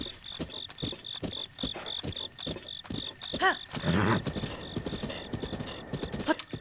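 Horse hooves clip-clopping in a Zelda video game, a steady rhythmic trot with a chirping cricket-like tone throughout and a brief whinny midway.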